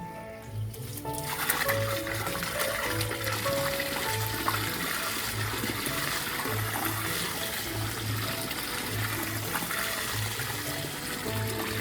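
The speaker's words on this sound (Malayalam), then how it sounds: "ഇനി നമ്മൾ വെള്ളം ഒഴിക്കുന്നു" Continuous water sound, like steady pouring into a large container for making jeevamrutham fertilizer, about 200 litres, loud and unbroken throughout with a low rhythmic churning underneath.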